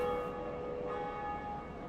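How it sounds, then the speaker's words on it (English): Faint church bell rung in Dark Souls, a sustained tolling ring with steady lingering tones that slowly fade, heard quietly and alone. "you just rang one of the 2 bells you needed to open up Sen's Fortress"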